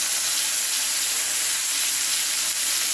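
Steak searing fat-side down in a hot pan, giving a steady, loud sizzle and crackle that runs without pause.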